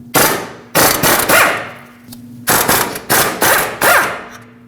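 An impact wrench hammers loudly on the two 19mm brake caliper mounting bolts of a Nissan Frontier, firing in two bursts of rapid rattling blows separated by a short pause with a faint motor hum between.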